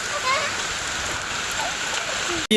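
Steady rain pours down during a flood in a village near Jaffna, a continuous close hiss of falling water filling the whole clip without a break.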